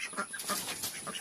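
Chickens in a farmyard coop clucking softly in a short, continuous stretch of overlapping bird calls, with no talk.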